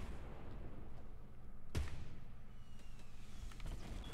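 Airstrike explosions in Fortnite Battle Royale: a sharp distant blast rings out midway, followed by fainter scattered booms and pops against a quiet background.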